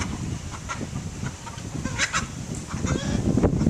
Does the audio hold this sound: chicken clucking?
yes